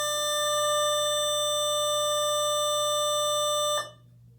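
A loud electronic school bell buzzes in one steady, harmonic-rich tone for several seconds, then cuts off abruptly into quiet.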